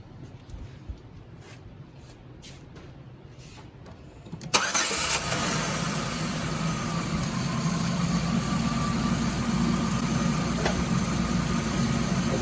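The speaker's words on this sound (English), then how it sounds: "Now you need to have the engine running when you do this." A car engine with a suspected leaking head gasket turns over and catches, then settles into a steady, even idle that hums on without change.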